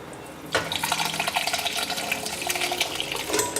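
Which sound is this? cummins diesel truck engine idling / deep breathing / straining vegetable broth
straining vegetable broth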